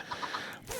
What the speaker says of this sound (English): Okay, chicken.